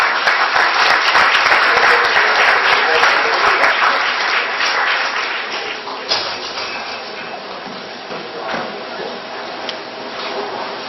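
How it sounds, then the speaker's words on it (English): Applause from an audience at a school board meeting, a dense steady clapping that fades gradually over several seconds, with a few louder isolated claps near the end. "How about a nice round of applause?"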